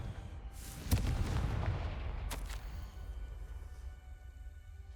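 A Confringo blast spell cast in Hogwarts Legacy gameplay, heard as a sharp booming crack followed by a second fainter burst, each trailing into a low rumbling roar that slowly dies away.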